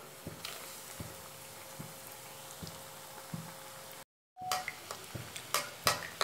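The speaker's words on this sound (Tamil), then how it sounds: "இதே அளவில் பார்த்திங்கன்னா நம்ம ஒவ்வொன்றா பொறிச்சு எடுத்துடலாம்" Paneer and potato pieces frying in oil on a medium flame give a steady soft sizzle with faint periodic taps, broken by a brief silent gap, then sharper crackles and spatters toward the end.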